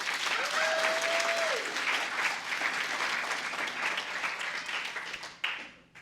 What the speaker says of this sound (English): So let's give a round of applause to Terrence for that.